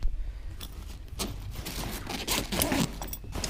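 A zipper opens on a bag compartment in a few quick, close, raspy pulls separated by short pauses and handling rustle.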